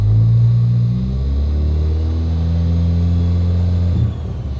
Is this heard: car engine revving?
yes